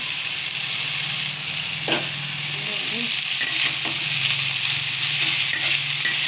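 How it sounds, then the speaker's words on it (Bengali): Ivy gourd (telakucho) greens sizzle steadily in hot oil in a pan, a loud continuous frying hiss broken by a few soft stirring scrapes. "তো এবার তেলাকুচো শাকটা আমি দিয়ে দিচ্ছি"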